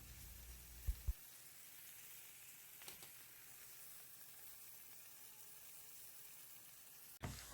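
A steak sizzles steadily in a hot pan, a continuous close hiss of frying with a few soft knocks near the start and one at the end, with no talking.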